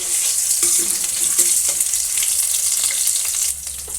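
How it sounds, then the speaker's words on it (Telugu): Ginger garlic paste fries with golden-browned onions in hot oil, a loud continuous close sizzle with light stirring, easing slightly at the end. "ఇప్పుడైతే కొద్దిగా అల్లం వెల్లుల్లి పేస్ట్ వేస్తున్నాను."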